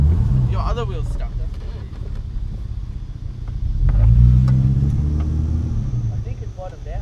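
A 1999 Holden VT Commodore engine revs in low, rumbling surges while the stuck car is pushed and rocked, swelling louder midway, with people shouting instructions over it.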